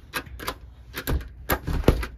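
Fingerprint smart lock being locked on a door, giving a string of short, sharp mechanical clicks and taps in separate bursts, close and fairly loud, with no talking.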